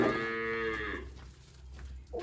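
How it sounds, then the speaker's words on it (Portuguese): A cow on a farm gives one long, loud, close moo that trails off into quieter ambient farm noise, then a brief low sound begins again at the very end. "É uma vaca, que vaca tem chifre, sabe?"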